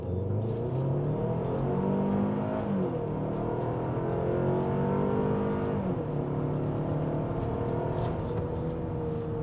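A new Hyundai Palisade in sport mode accelerates hard, its engine note climbing steadily through gear changes as a loud, continuous drone heard from inside the cabin, with no talking.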